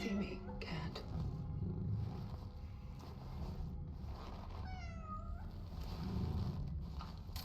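A cat in the video game Cronos: The New Dawn gives a drawn-out meow, fairly faint against a dense ambient background with some talk nearby.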